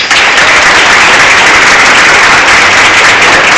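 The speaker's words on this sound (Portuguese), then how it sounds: "Mais uma salva de palmas" Audience applause at a Pathfinder (desbravadores) scarf investiture ceremony, a loud, dense, steady wash of clapping that fills the whole stretch without letup.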